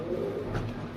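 A white Gorgorio male pigeon coos in a low, soft murmur, close by, with a steady background of room noise and no talking.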